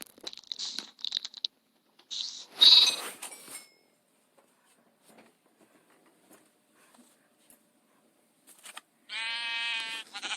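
A baby sheep lets out one loud, wavering bleat near the end, after scattered crunchy chewing and feeding noises and a long quiet stretch.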